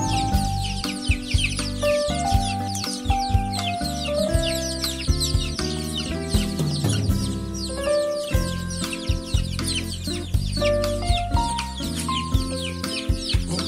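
Many chicks cluck and peep busily together while feeding, a dense, overlapping chorus of short calls close by, with no voices.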